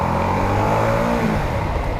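A Ducati XDiavel motorcycle engine revs loudly and close by, a rising then settling throaty roar with steady low rumble, with no voices over it.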